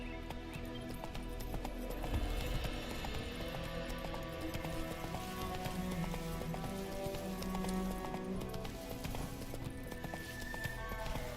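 A horse gallops in The Witcher 3: Wild Hunt around White Orchard, with steady, rhythmic hoofbeats and a whinny over continuous game music.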